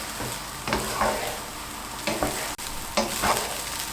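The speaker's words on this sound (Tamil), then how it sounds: "கொஞ்சம் ஃபுல் ஃப்ளேம் வச்சுட்டு நம்ம அப்படியே கலக்கிறோம்." Egg fried rice stirred in a pan over full flame, with a sizzling hiss under repeated scraping strokes of the spatula, several distinct stirs spaced about a second apart, close and alone.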